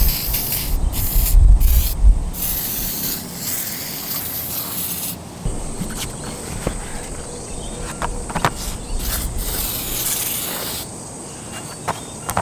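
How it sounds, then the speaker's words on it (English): Bursts of degreaser spray hiss from an aerosol can onto car suspension parts in short repeated blasts, close up, with brief pauses and faint rustling between sprays. "I got to spray these with degreaser"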